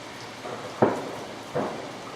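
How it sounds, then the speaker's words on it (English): Two sharp, distant bangs from pigeon scarers about three-quarters of a second apart, each with a short echoing tail, over a steady outdoor background hiss in countryside between Woldingham and Oxted. "Some of those pigeon scarers."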